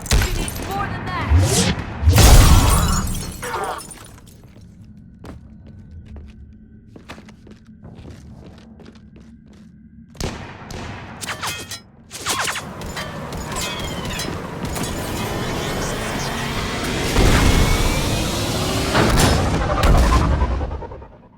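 Gunfire and heavy impacts in a Mass Effect 3 battle, Legendary Edition, with sharp bursts and thuds, a quieter stretch, then dense firing resuming, while characters talk over the combat.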